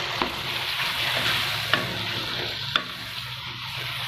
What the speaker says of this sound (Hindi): अब इसमें यहाँ पे जो मैं अरबी इसमें शामिल कर दूँगी और इसको अच्छे से जो है वो भून दूँगी